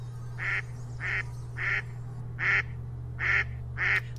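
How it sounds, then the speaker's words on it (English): Cartoon ducks in a My Little Pony animation quack six times in a steady rhythm, loud and clear above a constant low hum. "Ducks!"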